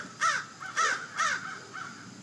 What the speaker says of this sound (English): there's a crow. Maybe you can hear the crow in the podcast.